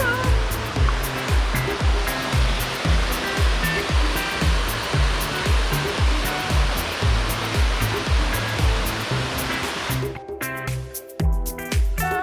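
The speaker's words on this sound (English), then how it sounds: "And waterfall." Steady roaring rush of Waimoku Falls on Maui, loud and continuous, with a heavy churning low end; the roar thins slightly near the end.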